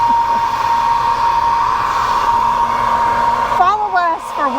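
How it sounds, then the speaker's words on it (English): A hair dryer blows hot air to melt ice off a wall, a loud, steady close-up whine, joined near the end by a person talking over it. "that's what I'm doing with the hair dryer. I'm trying to melt the ice."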